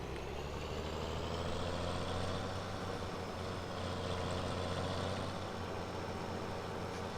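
A tractor engine idling in the video game Farming Simulator 17 with the Seasons mod, a low steady diesel rumble that stays constant and faint throughout with no talk.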